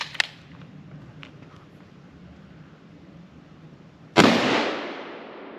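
A .30-06 Winchester Model 70 rifle firing 165 grain Sierra MatchKing loads, with two loud, sharp reports outdoors: a short crack near the start, then a much heavier blast with a long decaying echo.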